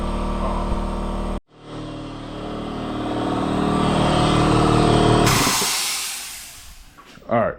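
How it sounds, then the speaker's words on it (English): Small air compressor running alongside a car-cleaning tool, a loud, steady motor drone that kicks in abruptly after a brief silence, holds, then cuts off into a different rougher noise. "had to turn that compressor off real quick, but that's not the smallest air compressor"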